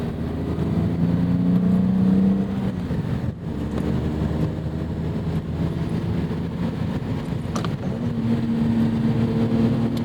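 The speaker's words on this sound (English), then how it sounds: "even when you're rev matching, you really gotta hit the throttle, flip it harder than you think" A 1991 BMW M5 E34 engine droning and blipping during a rev-matched gear change, heard from inside the car as a steady low hum that rises in pitch toward the end, with no one talking.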